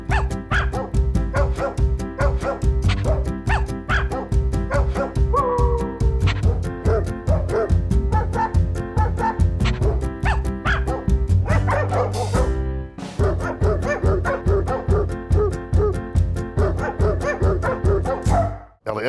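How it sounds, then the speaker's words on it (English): A police drug-detection dog barks rapidly and repeatedly, close and loud, with yips and whimpers mixed into a near-continuous run of barking lasting almost twenty seconds. "Oreo is one of our 2 of our drug detecting dogs."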